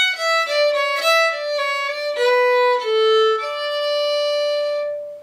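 A fiddle plays a brisk melodic variation on the traditional Irish march Return from Fingal, short dancing notes settling onto a long held note, bright and close with no talking.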